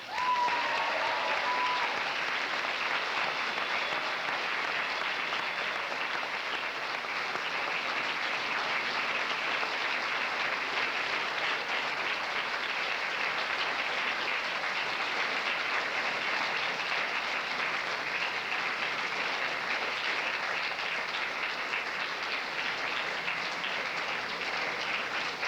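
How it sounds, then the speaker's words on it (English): A large audience at a 1995 University College London graduation ceremony claps loudly and continuously, a dense, even wash of applause that keeps going without pause. "I think the length and the enthusiasm of that applause does indeed show the"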